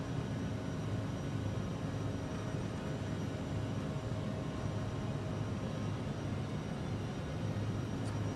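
Airliner engines at takeoff thrust in a flight simulator make a steady, broad roar that holds at an even level throughout, with no talk over it.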